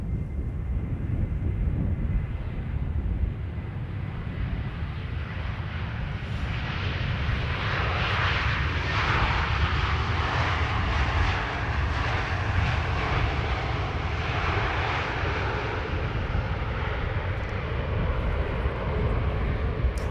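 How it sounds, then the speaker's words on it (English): An Airbus A320neo lands on the Polderbaan runway 18R at Amsterdam Schiphol, a steady loud jet roar with broadband rumble that swells toward the middle and holds for about twenty seconds, no voices. "Our next arrival, an A320neo, flight 731, 2 hours and 3 minutes underway."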